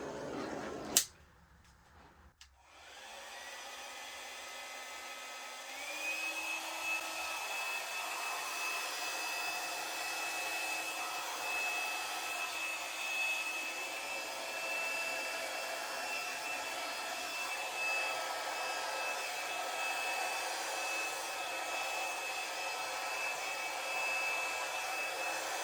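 A hair dryer blows steadily across wet acrylic paint poured for abstract ceiling-fan art, its loud whirring rush holding for over twenty seconds after a brief click and startup, with a slight shift in pitch partway through.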